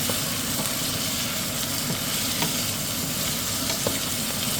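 Chopped vegetables with carrots and celery fry in a soup pot as they are stirred, a loud continuous sizzle with faint scraping knocks throughout and no voices.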